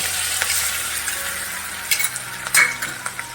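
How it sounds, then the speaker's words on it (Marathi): Thecha chili paste dropped into hot oil with mustard seeds, a close, loud, continuous sizzle with a few sharp spatters and spatula scrapes. "आता ठेचा घालून घेते जो तेलात असतो"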